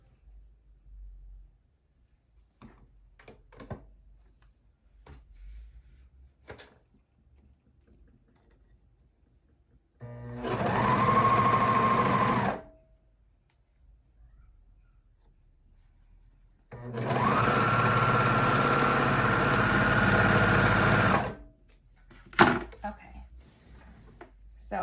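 A sewing machine stitches a seam through pinned fabric layers for panel underwear: two steady, close mechanical runs, one short and one longer, with quiet handling noises in between.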